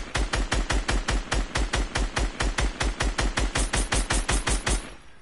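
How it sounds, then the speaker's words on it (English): Rapid automatic assault rifle fire in a video game: one sustained burst of evenly spaced loud shots, about five per second, close and alone for several seconds. "let me try and hit an AR shot from here"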